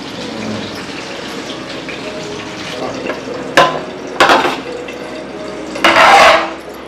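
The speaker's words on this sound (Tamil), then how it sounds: "சாப்பாடு உடையாமல் நல்லா கிண்டுங்க" A biryani pot of cooked rice is stirred gently with a ladle, giving soft scraping and wet churning that swell into a few louder sweeps near the end over a low background hum.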